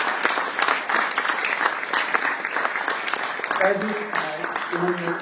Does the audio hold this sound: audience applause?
yes